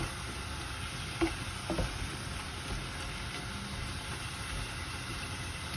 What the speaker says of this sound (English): At the moment the meat is cooking with the olive oil that we've added and its own juices